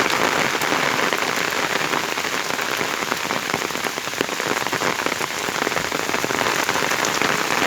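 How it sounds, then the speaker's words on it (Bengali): Heavy rain pours steadily and densely, drumming on surfaces with a constant loud hiss. "অনেক বৃষ্টি অনেক বৃষ্টি"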